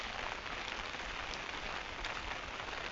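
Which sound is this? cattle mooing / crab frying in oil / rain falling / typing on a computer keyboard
rain falling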